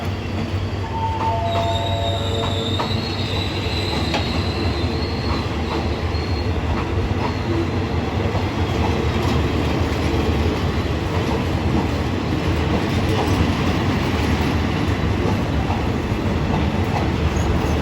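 An express train departs a Thai station at Bang Sue, a steady loud rumble of rolling carriages with wheels squealing in high whines and faint clickety-clack beats throughout, with no talking.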